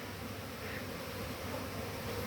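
Honeybees flying out of their hives in winter around New Year, a faint, steady buzzing swarm hum heard alone at a distance.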